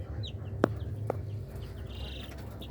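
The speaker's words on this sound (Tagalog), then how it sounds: "sisiw ng Rhode Island" Three-day-old Rhode Island chicks peep faintly in brooder surroundings, with a few soft high chirps over a low hum and two sharp knocks.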